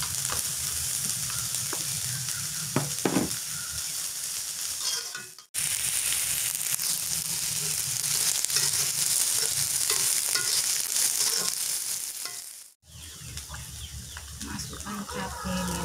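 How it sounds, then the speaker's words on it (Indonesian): Garlic and shallots sauté in a small amount of oil for Indonesian stir-fried tempeh with green chilies, giving a steady, close sizzle that carries on throughout with a couple of abrupt brief dropouts, along with occasional clinks and stirring. "Masukkan bawang putih, bawang merah, kita tumis dulu ya."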